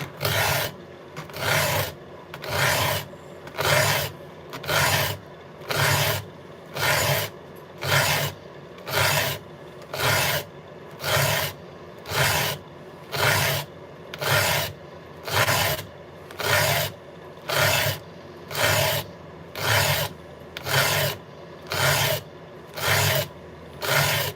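A file rasps back and forth across a chainsaw chain in a steady, even rhythm, around twenty strokes, close up and alone.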